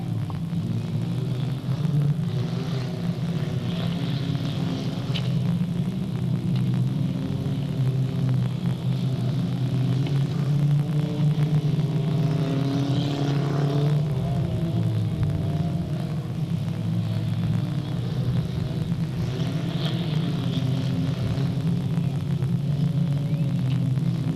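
Race cars on the final lap at Delta Speedway in 1998 make a continuous loud engine rumble and drone that swells and fades slightly as they circuit the track.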